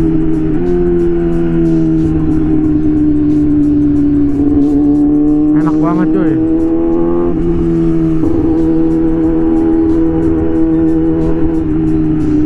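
A Yamaha R6 motorcycle fitted with an autoblipper runs loud and close, holding a steady rev with quick blips and pitch shifts partway through as gears change without the clutch.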